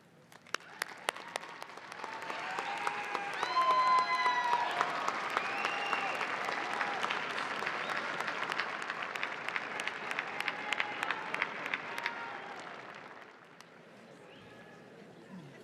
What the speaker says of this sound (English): I'd like to ask each of our graduating students to stand and give a round of applause to those who helped you on this journey